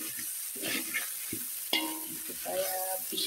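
Mustard greens stir-fried with spices in a hot pan at a rice stall kitchen: close spatula scrapes and tosses over a continuous hissing sizzle, with no talking.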